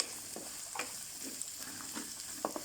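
Finely chopped shallots frying in a pan with mustard seeds and garlic, a soft steady sizzle broken by a few brief stirring scrapes.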